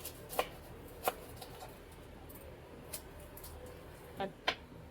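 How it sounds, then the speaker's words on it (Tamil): A few sharp knife chops through onions and tomatoes on a board, spaced irregularly, fairly quiet with a faint background hum. "நம்ம பல்லாரி, தக்காளி எல்லாத்தையும் வெட்டி மிக்சியில் அரைச்சிடலாம்"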